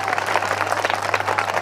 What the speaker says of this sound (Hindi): या ताली बजाओ